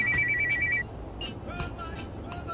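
A telephone rings with a bright electronic trill in a short burst at the start, then stops, leaving faint background noise and brief vehicle-like sounds.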